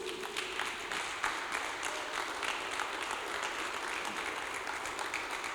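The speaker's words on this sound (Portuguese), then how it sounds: "Uma salva de palmas para Jesus." Steady applause from a church congregation during a Thursday worship service, a dense wash of many hands clapping continuously throughout, fairly even in level with no voices standing out.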